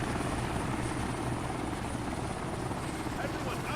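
Ghost Hawk helicopter in the video game ARMA 3, a loud, continuous rotor and engine roar filling the whole stretch without pause.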